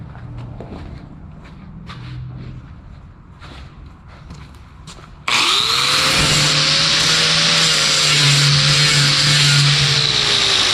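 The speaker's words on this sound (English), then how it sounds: "Now I gotta grind it." An angle grinder works on a metal door under repair: after about five seconds of quieter shuffling and movement, a loud, steady grinding roar starts and holds, its pitch wavering slightly as the disc bites into the steel.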